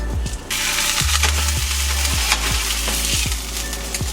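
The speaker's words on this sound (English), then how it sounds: "Pan's super hot here. Just put some oil in it. Sear the tuna." Tuna steaks sear in a very hot, oiled pan, giving a loud, close, constant sizzle broken by a regular series of sharp scraping clicks from a utensil working the pan.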